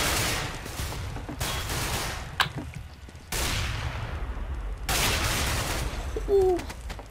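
Gunfire rings out in Counter-Strike: Global Offensive as repeated bursts of rapid automatic shots, loud and close. Brief pauses separate the volleys, with a faint voice near the end.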